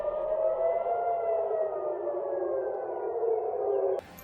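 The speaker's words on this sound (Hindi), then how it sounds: "मिसाइल के गिरने से पहले सायरन की आवाज गूंजी" Air raid siren wailing at Ben Gurion Airport ahead of a Houthi ballistic missile strike, a loud, steady, slowly falling tone that holds for about four seconds before cutting off abruptly.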